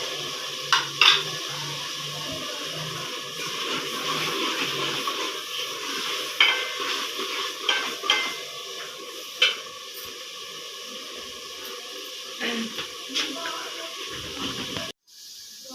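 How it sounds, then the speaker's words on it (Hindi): Masala roasting in a handi pot in a village kitchen, with a steady frying sizzle and repeated scraping stirs against the pot, plus occasional clinks of a spoon; no voices. "हमारा जो था मसाला जो था वो मैंने अच्छी तरीके से उसको भून लिया"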